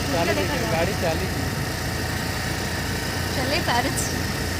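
A scooter engine hums steadily as the ride gets under way, a continuous mid-pitched drone beneath people talking throughout.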